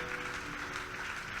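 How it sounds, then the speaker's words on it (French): A church congregation at a women's convention applauds, a brief burst of continuous clapping with a faint sustained tone underneath. "Est-ce qu'on peut applaudir le Seigneur?"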